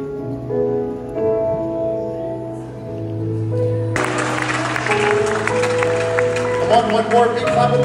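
Church congregation at a 34th anniversary service in Vancouver, British Columbia bursts into loud, sustained clapping of praise that swells over lingering organ or keyboard chords, a dense wash of hands continuing to the end.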